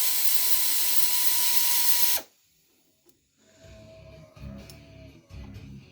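A ratchet wrench backs off a bolt holding the carburetor bracket on a cheap secondhand snowblower. A loud, rapid mechanical whirring comes first and stops abruptly, followed by quieter clicking and clanking handling noises.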